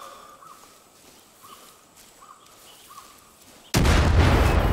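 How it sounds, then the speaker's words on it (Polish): A sudden loud blast of a planted explosive charge in the video game Far Cry 5 hits near the end, a dense burst of noise after quiet game ambience with faint repeated chirps. "podłożę ładunek wybuchowy"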